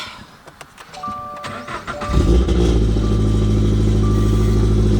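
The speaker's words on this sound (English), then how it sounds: "let me get this car started" A Toyota GR86 or Subaru BRZ (2022+) engine cranks with a few clicks and chimes, then catches and settles into a steady, loud idle.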